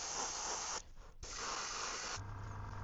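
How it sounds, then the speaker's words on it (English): An airbrush sprays normal white paint onto the belly of a 3D-printed fishing lure, a steady close hiss with one brief break before the spray resumes. "we're just gonna go and spray the belly with some normal white"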